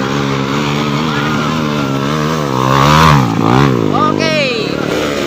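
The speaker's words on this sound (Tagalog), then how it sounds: "Ning lapos ang motor." A motorcycle revs and runs on a moto trail, its engine harmonics rising and falling as it passes close and loud, with a shout partly over it.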